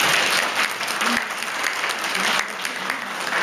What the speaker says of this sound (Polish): dla tych nowo przyjętych serdeczne brawa